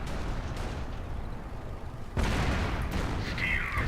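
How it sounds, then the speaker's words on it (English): Hummel artillery and mortar fire rumbling across a battlefield in a video game, a steady low roar that swells suddenly into a louder, sustained barrage of booms partway through. "Hummel artillery coming down on the sections over here"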